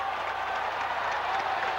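A Tennessee home crowd at a 1994 college football game against Washington State cheers and applauds in a steady, dense roar from a large stadium, heard at a distance without a break.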